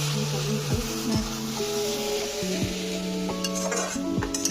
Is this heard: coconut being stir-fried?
yes